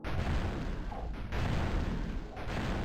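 Sustained, dense gunfire and explosive booms fill a firefight in the Fire Warrior video game, loud and continuous with brief dips between bursts.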